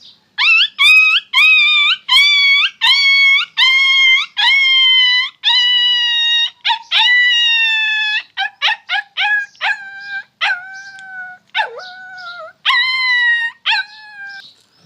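A man imitates a puppy with his voice, making a long run of loud, close, high yelps and whimpering whines in quick bursts with short gaps between them.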